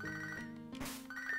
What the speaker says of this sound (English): Lyra's calling us, so we're gonna end it right here because I'm not answering her phone call right now